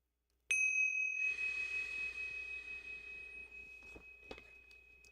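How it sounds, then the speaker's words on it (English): Metal chimes are struck once during a relaxed livestream breathing exercise, giving a bright sustained ring that lingers and slowly decays, with a few faint knocks near the end. "Will you hit them with the chimes again?"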